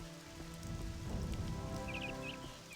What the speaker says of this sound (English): It rains. I can't stop it